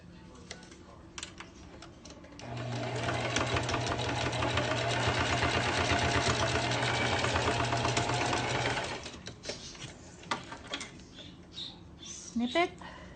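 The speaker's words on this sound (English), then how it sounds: "And then we sew this together." A sewing machine runs in one continuous, steady whir for about six seconds while stitching a fabric face mask, with quieter handling noises before and after.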